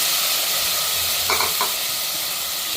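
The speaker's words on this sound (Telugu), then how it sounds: "నేను ఇప్పుడు ఇందాక అట్టి పెట్టిన ఆనియన్స్లో వాటరు పిండాను కదా, అవి ఇప్పుడు యాడ్ చేస్తాను." Squeezed chopped onions sizzle steadily in a hot pan for mutton paya curry, a continuous close frying hiss with a brief stir-like clatter midway and no talking.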